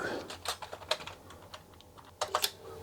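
Keys clatter on a Sinclair QL computer keyboard as a command is typed, in short uneven bursts of close, crisp clicks with a quick final flurry near the end.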